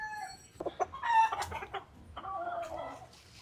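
A chicken clucks close by in a quick series of short, uneven calls with a few sharper squawks, moderately loud against a quiet background.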